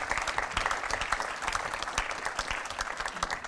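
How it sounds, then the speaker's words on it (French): An audience applauds panelists being introduced at a conference, a steady dense clapping throughout at moderate level. "vous pouvez les applaudir."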